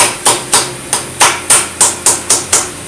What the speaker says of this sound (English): Our dead blow hammer.